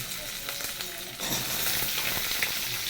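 Green chillies frying in a pan for a dried fish recipe, a steady sizzle that jumps louder partway through as the pan flares up, with light stirring scrapes.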